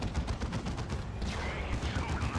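Cannon and gunfire from a Dawn of War Retribution battle, a dense rapid volley of sharp booming shots layered into continuous loud combat noise.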